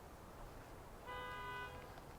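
Child honking a car horn once in a single held toot of about half a second, fairly faint over steady background noise.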